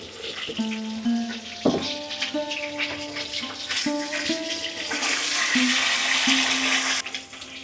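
Eggs frying in a pan with a pinch of salt, giving a steady sizzle throughout while a melodic tune plays over it; no one speaks.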